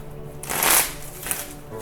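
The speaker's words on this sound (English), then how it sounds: "I'll shuffle those back in." A single quick riffle of playing cards being shuffled back into a deck during a card game match, close and crisp, lasting about a second with no one talking.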